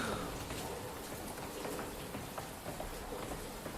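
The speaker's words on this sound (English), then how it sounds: "I guess it's raining, thunder" Steady rain pours in a video game storm scene, a dense continuous hiss of drops at even loudness with no clear thunder clap standing out.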